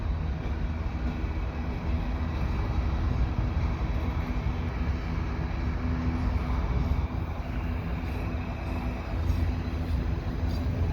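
A CN potash unit freight train, mostly Canpotex cars with a few red Potash Corporation cars, rushes past at speed, giving a loud, steady, continuous rumble and roar with no breaks for the whole stretch.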